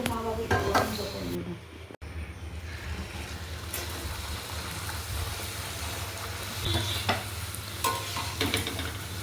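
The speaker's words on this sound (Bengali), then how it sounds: "সব লুচিগুলো ফুলছে যে ক্যামেরা দেখছে অমনি লুচির লজ্জা পেয়ে যাচ্ছে" Luchi deep frying in hot oil, puffing up as they cook, with a steady close sizzle and occasional stirring clatter; a person talks briefly over the frying.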